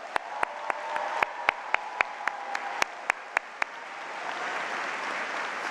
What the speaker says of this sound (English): Please give these outstanding graduates a round of applause.